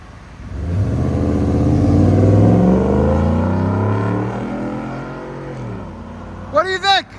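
A Ford F-150 with a 5.0L Coyote V8, a Vibrant resonator, a Borla S-type muffler and a 5-inch tip revs up loudly, holds a deep rumble, then falls back. A brief voice follows at the end.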